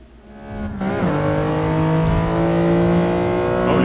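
Race car engine in Gran Turismo Sport on soft tires, revving hard toward 9000 RPM, a loud continuous rising whine that climbs steadily in pitch after a brief quieter start, with no talk over it.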